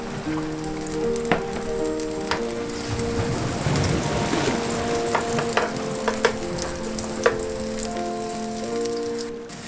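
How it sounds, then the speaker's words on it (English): Tuna fritters fry in a pan aboard a boat, giving a steady loud sizzle and crackle with scattered pops and small clicks, and a low tonal hum underneath throughout. "Fry on one side."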